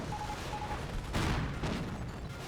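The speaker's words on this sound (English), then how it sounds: "Oh, he exploded by his own artillery." Artillery fire and explosions in the Company of Heroes video game: a low rumbling blast erupts midway and fades into a lingering roar over a steady din of battle noise.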